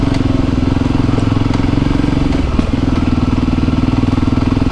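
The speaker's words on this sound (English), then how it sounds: "this is what this bike's made for, I suppose, with its long travel suspension and 21 inch front wheel and knobbly tyres." A Voge 300 Rally adventure motorcycle with long-travel suspension, 21-inch front wheel and knobbly tyres rides a rough, broken road, its engine droning loud and steady with rattles and knocks from the bumpy surface, no talk.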